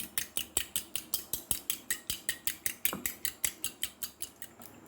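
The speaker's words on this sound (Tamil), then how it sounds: "இப்போ இதெல்லாம் நல்லா சேர்த்துட்டு ஒரு ஃபோர்க் வச்சு நல்லா அடிச்சுக்கிறோம் பாருங்கள்" A fork beats an egg mixture in a bowl with quick, evenly spaced clicks and taps, about four strokes per second, close and crisp, slowing slightly near the end.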